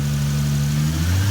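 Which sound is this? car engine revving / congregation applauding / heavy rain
car engine revving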